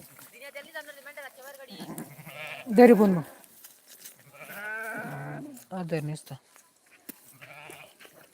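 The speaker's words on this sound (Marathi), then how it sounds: "मित्रांनो हे बा आमच्या मेंढ्या" Sheep bleat loudly from a flock of Maharashtrian sheep, in several drawn-out calls with one especially loud bleat in the middle, while someone talks in between.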